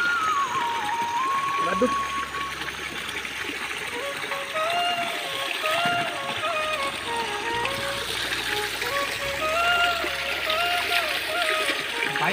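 Fresh water from a mountain source in Uttarakhand flows and splashes steadily throughout, a continuous close trickle and gurgle that runs under people talking.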